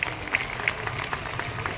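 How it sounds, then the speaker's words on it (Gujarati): An audience at a BJP women's wing convention in Ahmedabad applauds in a steady, moderately loud patter of many clapping hands that fills the short stretch. "બહેનો આપણી તાળીઓ તો સંભળાવી જોઈએ."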